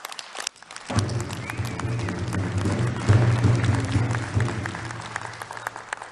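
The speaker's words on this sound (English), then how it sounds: "I just would like you to give them a round of applause." Applause fills an assembly hall at an Assembly of First Nations Special Chiefs Assembly, beginning after a short quiet moment and then swelling into loud, sustained clapping from a large crowd that carries on to the end.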